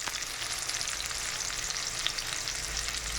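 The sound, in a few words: green onion frying in oil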